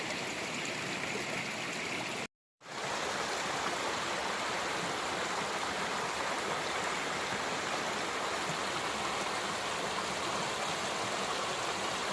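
Steady rushing creek water in West Virginia flows continuously, a dense broadband wash with a brief dropout near the start, then unbroken to the end.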